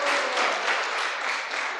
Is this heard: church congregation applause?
yes